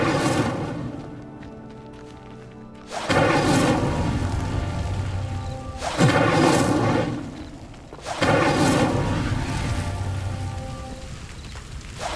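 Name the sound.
Incendio fire spell lighting pyres in the video game Hogwarts Legacy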